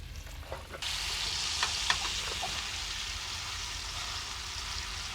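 Food frying in a pan kicks into a steady bright sizzle after a brief quiet start, with a few small pops and utensil clicks over the continuous hiss, fairly soft and close.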